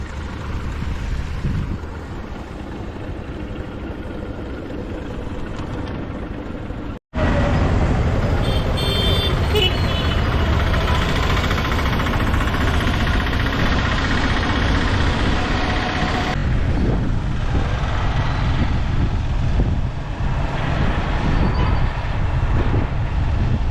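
Steady loud motorbike engine drone with rushing wind noise while riding in light rain, briefly cutting out for an instant before resuming just as strongly.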